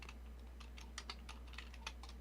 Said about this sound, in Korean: 아직까지 타자가 능숙하지 않네요.